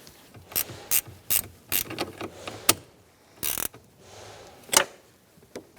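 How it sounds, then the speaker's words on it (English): Ratchet clicking in repeated bursts while working on the alternator belt of a 2005-2010 Chrysler 300 with a 5.7L V8, sharp metallic pawl clicks close by with short pauses between strokes. "you can release the belt and take out your ratchet"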